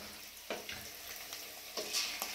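Chicken 65 pieces dropped into hot oil in a kadai, a steady close frying sizzle with a few splashy bursts as pieces go in, no voices.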